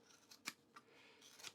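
Buck Splizzors scissors cut through thick duvetine fabric, close and quiet, with a few crisp snips spread over a second and a half and no talk.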